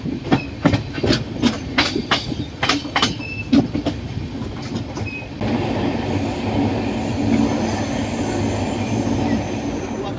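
Riding aboard a moving train in West Bengal, close rhythmic clickety-clack of wheels over rail joints giving way to a loud, steady rumble and rushing roar of the carriage in motion.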